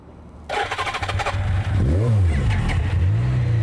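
A new car's engine cranks and catches with a sudden roar, then revs up and down in several rising and falling sweeps, loud and close with no talking.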